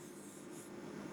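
Numbers being written on a board make a faint, continuous scratching rub for about a second.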